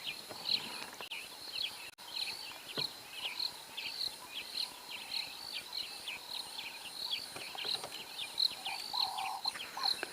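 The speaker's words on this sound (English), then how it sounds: "You can only hear the birds," Birds singing in the African bush, repeated bright chirps and calls overlapping at a moderate distance in a steady, busy chorus, with insects faintly underneath and no talking.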